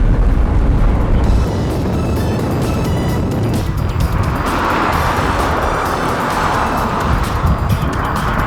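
A Tesla Roadster Sport electric car accelerating and driving, with loud, steady road and wind rush throughout and a brighter surge in the second half, no voices.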